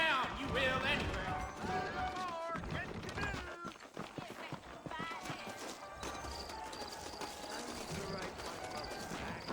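Horse hooves clip-clop in the Western video game Red Dead Redemption as saddled horses move out of town, a steady rhythmic patter running under game dialogue and background music.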